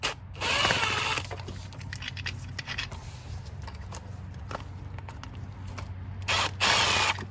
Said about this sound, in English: you have to disconnect the negative terminal on your battery